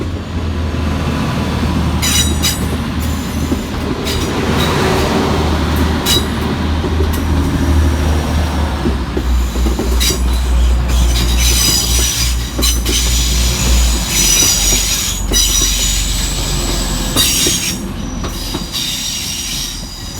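Class 185 TransPennine Express units 185-138 and 185-131 rumble loudly through Manchester Piccadilly, wheels squealing and clattering over joints in a continuous close roar with repeated high screeches.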